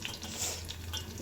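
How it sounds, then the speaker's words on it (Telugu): Oil crackling and sizzling in a pan as garlic goes into a home-cooked curry, a steady, dense hiss with scattered small pops throughout. "సో ఇలా చిటపట అనేటప్పుడు కొద్దిగా వెల్లుల్లి"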